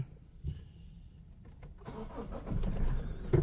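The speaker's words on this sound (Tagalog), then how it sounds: "Start na natin yung sasakyan." A cold Toyota Fortuner engine cranks and catches after a couple of seconds, then settles into a low, rumbling run heard close by.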